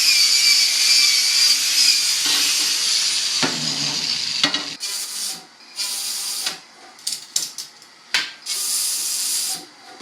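A circular saw fitted with a 48-tooth metal-cutting blade bites through steel, giving a loud, continuous high-pitched shriek that breaks into short bursts and gaps as the cut finishes and the blade spins down.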